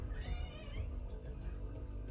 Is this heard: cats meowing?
yes